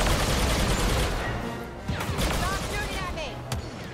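Video game blaster fire and explosions from Star Wars Battlefront 2: dense rattling bursts of shots with heavy booms underneath, loud and continuous, easing slightly toward the end.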